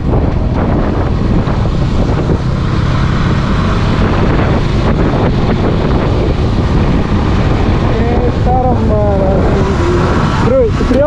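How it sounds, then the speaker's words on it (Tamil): Steady, loud wind buffeting during a ride along a coastal road by the Arabian Sea near Udupi, rushing continuously throughout with a vehicle's drone underneath and voices speaking toward the end. "காற்று நல்லா சில்லுன்னு வீசுது"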